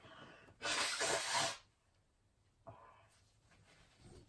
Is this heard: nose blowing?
yes